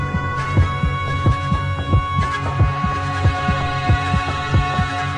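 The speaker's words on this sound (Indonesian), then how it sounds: "Dan seketika jantungku terasa berdegup kencang." A pounding heartbeat effect thumps in a steady double-beat rhythm, deep and close, layered over a sustained droning hum with no voices.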